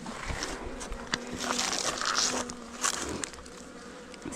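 Honey bees flying around a hive on a 50-degree winter day, out on cleansing flights: a dense, steady buzzing swarm close by, with individual bees droning past the listener, and no talking.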